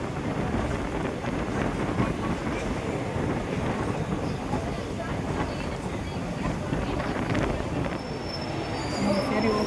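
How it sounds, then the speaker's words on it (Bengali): A passenger train on the Madurai–Rameswaram line slows and halts at Mandapam station, with a steady, loud rumble of rail cars and wheels filling the whole stretch and some wind buffeting the microphone. "এখানে ট্রেনটা দাঁড়াবার কথা নয়, কিন্তু ট্রেনটা দাঁড়ালো"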